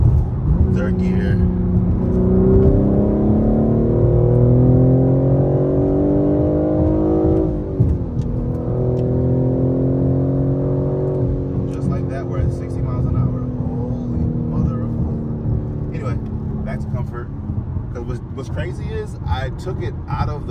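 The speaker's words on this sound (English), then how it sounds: "Let's do a little quick auto rev match. I actually put it in M1. Third gear." A manual BMW G82 M4 in third gear revs and pulls on a city street in New York, the engine note climbing, dipping with a shift around midway, then climbing again, loud and close, with a voice talking over it.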